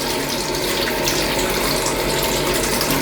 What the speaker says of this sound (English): I'm just going to rinse them like it is, you know, under the tap like that.